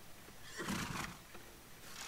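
A horse whinnies once in a brief, mid-loud burst over a steady background hum, with no talking, in a video game.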